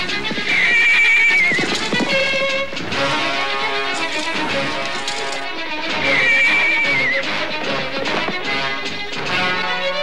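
Horses neigh in the 1984 Zorro film with a Norwegian dub: two loud, drawn-out whinnies about five seconds apart over a busy soundtrack and hoofbeats.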